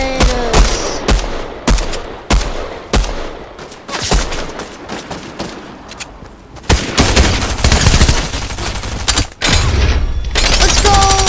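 Loud, close bursts of video game gunfire in a Fortnite match: rapid shot volleys and sustained machine-gun fusillades with booming impacts, pausing briefly and then resuming densely toward the end.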